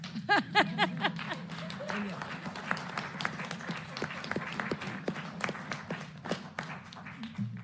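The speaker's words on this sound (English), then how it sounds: "Oh, you can clap." Audience clapping at a Portland State of the Schools address, scattered claps and taps building into steady applause in a hall, with a voice speaking briefly at the start.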